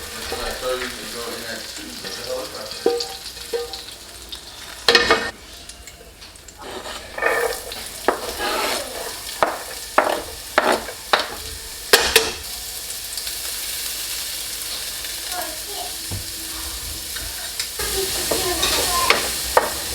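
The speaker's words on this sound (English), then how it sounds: "add some oil, saute my garlic and my onions" Garlic and onions sautéing in oil in a pan, a continuous sizzle broken by sharp scraping stirs and clinks of utensil on the pan, with a little background noise.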